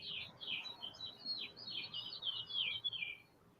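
Small birds chirp and tweet in quick, overlapping bursts, fairly close and clear over a quiet background, continuing throughout.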